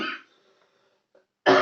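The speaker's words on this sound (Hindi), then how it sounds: "कुछ खांसी वगैरह आती है भाई" A man coughs twice, once at the start and again at the end, with near silence in between; both coughs sound close and rough.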